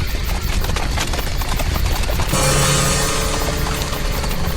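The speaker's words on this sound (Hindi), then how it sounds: "ये इतने सारे घोड़े, ये कैसी आवाजें हैं भाई साहब?" Many horses' hooves clip-clop in a dense, loud, continuous patter, shifting in texture partway through, as part of a Hindi horror story drama.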